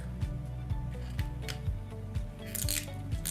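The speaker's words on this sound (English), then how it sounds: "I can just take my scissors." Scissors snip away excess material from a custom embroidery patch, giving a series of short crisp cuts about every half second, close and fairly quiet.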